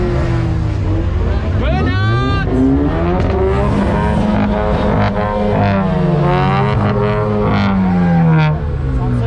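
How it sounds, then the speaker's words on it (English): A car at a South African night-time car meet revs hard in a burnout, its engine loud and close with rising and falling pitch, tire squeal mixed in, over a crowd chattering. "Burnout! Sounds legendary."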